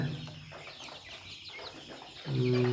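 Twenty-six-day-old layer chickens in a lit poultry shed cluck softly and intermittently nearby, ending with a louder, drawn-out call from one bird.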